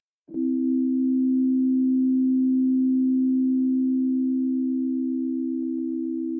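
Electronic tones tuned in standard equal temperament sound together with slightly clashing pitches, giving one loud, steady, sustained mid-pitched drone that holds unbroken for about six seconds with nothing else around it.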